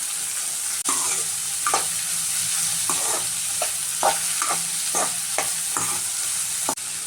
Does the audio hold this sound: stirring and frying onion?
yes